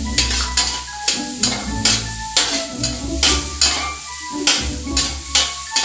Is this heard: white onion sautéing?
yes